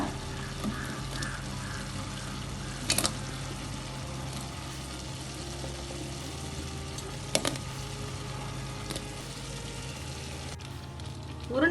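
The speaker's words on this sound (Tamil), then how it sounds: "தேங்காய் பால் கொதிச்சு வருது." Coconut milk bubbles in a pot for paal kozhukattai, rice dumplings simmering in it, giving a steady soft bubbling hiss with a few brief clinks or stirs, close by with no talking.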